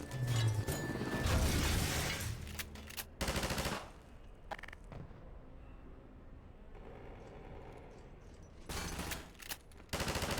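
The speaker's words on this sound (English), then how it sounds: "Oh, I think this is gonna be a turret section." Rapid automatic turret fire in the VR shooter Half-Life 2 VR comes in two loud, sustained bursts at the start and the end, separated by a quieter stretch of faint mechanical noise.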